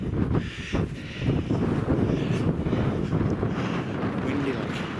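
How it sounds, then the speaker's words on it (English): Gusty wind blows hard across the microphone on a cairn in Scotland, producing a rough low rumble and buffeting that rises and falls. "Windy, like. Wind's picking up now."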